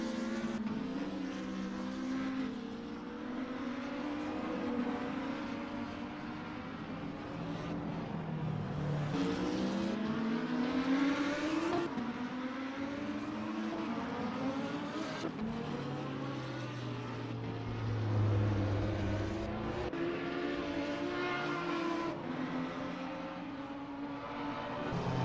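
GT3 race cars, among them a Lamborghini Huracan GT3 and a McLaren 650, racing at Vallelunga; several engines whine and rise and fall in pitch as cars pass and shift, a continuous overlapping roar throughout.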